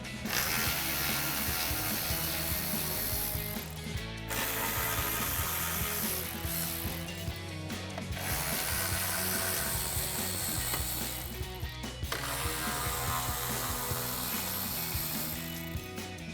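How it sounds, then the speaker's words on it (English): Ratchet wrench backing out 10mm bolts that hold the grille to the core support on a 2009-2018 RAM 1500 truck: rapid, loud, close clicking in several long bursts separated by brief pauses. "Our next step is going to be to remove these 4 10mm bolts that attach the grill to the core support."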